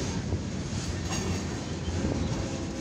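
A mixed freight train on a short line rumbles steadily past a town railroad crossing on Washington Street, close and loud, with continuous wheel clatter and rail noise and no talking.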